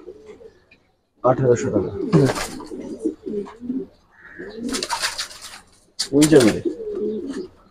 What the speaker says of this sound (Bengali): অনেক সুন্দর ইয়াং কবুতর